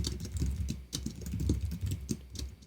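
Fingers type on a computer keyboard in quick, irregular bursts of sharp clicks, with a brief pause in the middle. Each keystroke is clearly audible, heard up close and without any talk.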